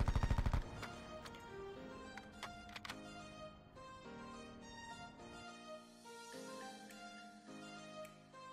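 SOG 9mm submachine gun fire in Black Ops 4: a loud opening burst, then scattered sharp shots over a tonal in-game backdrop.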